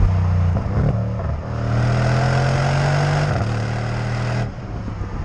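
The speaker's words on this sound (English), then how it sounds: "you can hear all of the exhaust all day long. It sounds so good." A deep, steady twin-turbo V8 exhaust rumble from a Mercedes GLE63 S SUV holds close and loud, with a couple of brief dips and swells in pitch as the engine eases off and returns, on a windy day.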